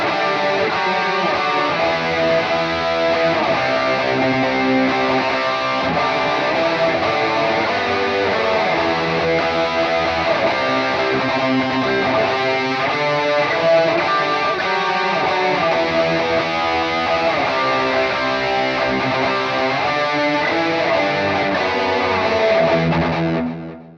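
Two distorted electric guitar parts play together in a dense, continuous, harmonised riff, loud and sustained throughout without any voices.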